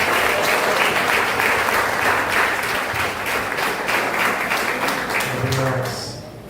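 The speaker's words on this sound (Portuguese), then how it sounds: "Quem pode aplaudir o Senhor por esse tempo?" A church congregation at an Assembly of God anniversary service applauds loudly and steadily, dense clapping filling the room throughout before tapering at the end, with some voices mixed in.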